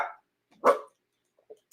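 A dog gives a couple of sharp single barks close by, separated by silence, with a faint soft whimper at the end.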